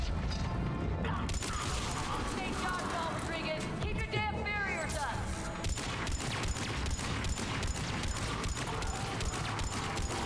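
Gunfire in the Mass Effect video game comes in rapid, repeated bursts of sharp shots with mechanical clatter, fairly quiet overall, under someone talking.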